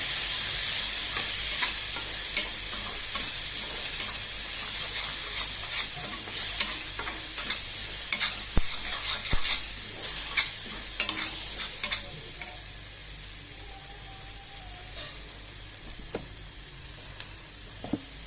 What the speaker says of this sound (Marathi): आणि हे वाटलेलं हिरवं वाटण टाकायचं. चांगलं परतून घ्यायचं.